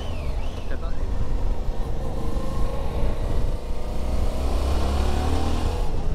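A Suzuki V-Strom motorcycle's V-engine with its stock exhaust runs and revs, a deep steady throb with rising pitch as the throttle opens, close and loud while someone talks over it.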